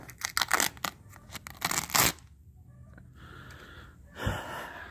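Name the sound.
peeling failed POR15 paint coating off in sheets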